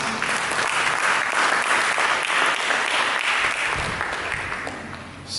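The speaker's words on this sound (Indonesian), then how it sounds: "Mari kita berikan tepuk tangan." Church congregation applauding during a sermon, a loud, dense, sustained roar of clapping from many people that tapers off gradually in the last second.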